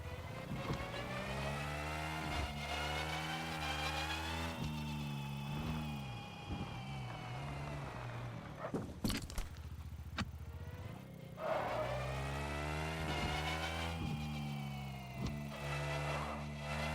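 Car engine in the video game Screw Drivers revving hard and climbing through a series of clean gear shifts, pitch rising then dropping at each change, loud and continuous with a brief sharp interruption midway.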